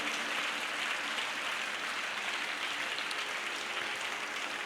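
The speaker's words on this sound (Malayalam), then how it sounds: "നല്ല കൈയടി കർത്താവിന് കൊടുത്തേ" A church congregation at a healing service claps together in steady, sustained applause, moderately distant and even.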